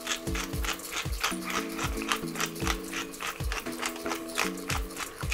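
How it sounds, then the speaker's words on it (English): A pepper mill grinds peppercorns over collard greens in a home kitchen, giving a steady run of close, dry ratcheting clicks and crunching twists in quick repeated bursts with no talking. "Now I'm gonna go in with the pepper mill, that pepper grinder."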